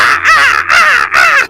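A person imitates a crow with three loud, harsh, close caws in quick succession, each about a third of a second long with brief gaps between them.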